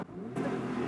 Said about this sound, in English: Love hearing the sports exhaust bounce off of these rocks